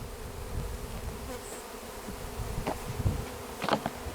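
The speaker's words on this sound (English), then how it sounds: "Talking about unhappy bees, but they're figuring everything out." Honey bees buzz steadily around an open hive during an installation, with a dense continuous hum and a few louder individual bees passing close by near the end.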